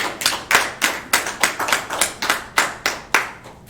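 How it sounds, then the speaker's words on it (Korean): A church congregation clapping in unison during a service, a loud, steady rhythm of about a dozen sharp, evenly spaced beats close by with no voices. "우리 주님께 영광의 박수."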